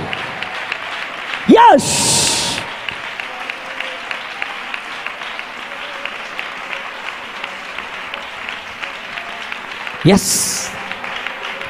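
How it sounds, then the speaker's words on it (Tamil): Church congregation clapping hands at a Tamil Christian service, two short bursts of applause separated by a long stretch of amplified preaching, with someone speaking throughout. "சபை கைகளை தட்டுங்க பார்க்கலாம்."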